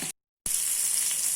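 Vanjaram fish frying in oil, a steady close hiss of sizzling that cuts out briefly near the start and then carries on evenly, with no talking.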